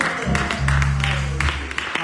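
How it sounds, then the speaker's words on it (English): A church congregation claps rhythmically in praise, quick hand claps rising briefly beneath and between voices, with a sustained tone from an organ or singing underneath. "let's give God a hand clap of praise."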